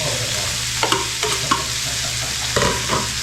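Onion and garlic fry in a pan with a steady, loud sizzle, broken by occasional scraping stirs of a utensil.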